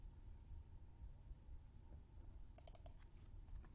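A few quick computer mouse clicks, three sharp close taps in a row near the end after a quiet stretch, pressing a search button in Oracle Fusion Fixed Assets software.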